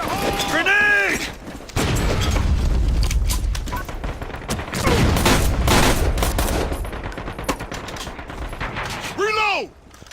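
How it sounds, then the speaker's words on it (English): Loud gunfire and a grenade blast in the online shooter Metro Conflict, with dense bursts of rapid shots and a heavy boom that continue almost without pause, and a player's voice shouting between them. "Fire in the hole! Grenade!"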